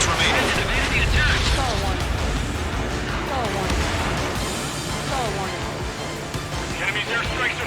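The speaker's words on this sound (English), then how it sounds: "The enemy's airstrikes are falling." Enemy airstrike explosions in Ace Combat 7, a dense continuous rumble of distant blasts and booms rolling under a voice and jet noise throughout.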